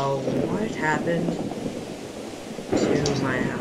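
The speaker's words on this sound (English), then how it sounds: "Oh, it's raining again." Steady rain hiss with low rumbling thunder underneath in Minecraft, while voices talk over it throughout.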